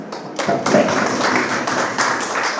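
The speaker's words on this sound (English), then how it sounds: "Maybe we can applaud for ourselves." Workshop participants at a university valedictory event applaud together in a hall, a dense, continuous patter of many hands at moderate loudness, with a few sharper claps standing out.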